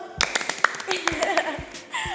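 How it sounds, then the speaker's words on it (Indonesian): A few scattered hand claps sound close by at the start of a podcast, mixed with brief voices and light laughter. "Boleh dong tepuk tangannya dulu."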